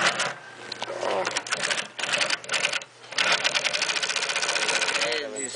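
A Juki LH-515 heavy duty double needle industrial sewing machine stitches heavy material in a rapid, steady mechanical whir, briefly pausing between runs, close and loud while someone talks over it.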